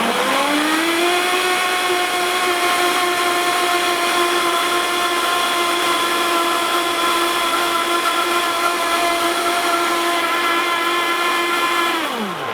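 A countertop blender whirs up to speed and holds a steady, loud, high motor whine while blending a fresh greens smoothie with avocado, then cuts off at the end.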